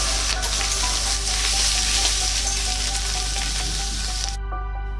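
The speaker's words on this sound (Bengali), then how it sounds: "2টো শুকনো লঙ্কা ফোড়ন দিয়ে দিলাম" Two dried red chillies tempering in hot oil, with oil measured out for frying onions, give a loud, steady sizzle close by that cuts off abruptly near the end.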